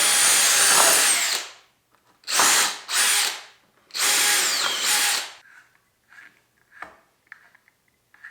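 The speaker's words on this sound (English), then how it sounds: "we're actually going to pre-drill pilot holes to make screwing in all these hooks a whole lot simpler" Power drill boring pilot holes for hooks on a garage ceiling fishing rod rack, several loud whirring bursts of about a second each separated by pauses, followed by faint handling clicks.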